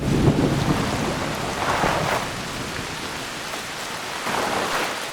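A large waterfall in Assassin's Creed Shadows gives a steady, broad rushing roar that swells and recedes a little but never stops.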